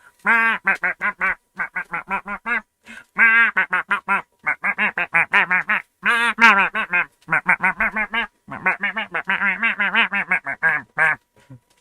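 Disco Duck in Warhammer 40,000 Boltgun quacking loudly and close in rapid rhythmic bursts, several runs of quick repeated quacks separated by brief pauses.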